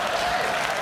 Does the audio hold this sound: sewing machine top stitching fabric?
no